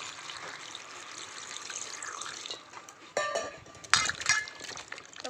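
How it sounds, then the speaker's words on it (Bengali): Cut potatoes and pointed gourd are rinsed in clean water in a bowl, with soft sloshing that gives way to louder splashes, drips and light clinks of the vessel near the end. "আলু পটল কাটা হয়ে গেছে, এবার ভালো করে পরিষ্কার জল দিয়ে ধুয়ে নেব।"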